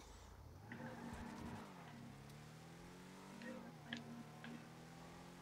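Car in a video game driving through hills, quiet engine drone with revving pitch sweeps up and down and short tire squeals, a faint voice murmuring underneath.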